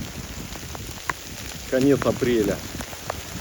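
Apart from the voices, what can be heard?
hail falling in wind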